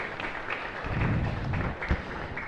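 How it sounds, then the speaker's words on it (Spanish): A congregation claps in steady applause inside a church chapel during Mass, a dense, even patter of many hands that continues throughout with a few louder thumps. "Un fuerte aplauso también"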